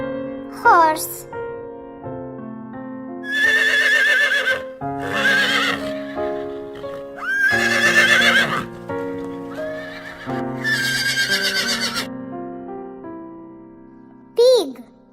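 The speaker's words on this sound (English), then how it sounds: "Horse." Several loud horse neighs and whinnies ring out in separate bursts, with harmonic squeals rising and falling, and a short high squeal near the end; no talking is heard.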